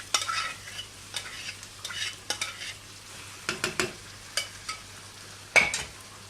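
Vegetables are stirred together with chicken Manchurian gravy in a pan, giving a series of close spoon scrapes and clacks in an uneven rhythm over a faint low sizzle.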